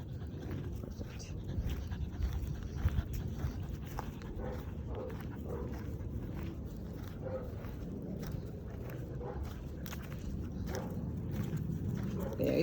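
A Labrador pants and moves about on a training walk, with quick breaths, scrabbling steps and faint whimpers at close range over soft background noise.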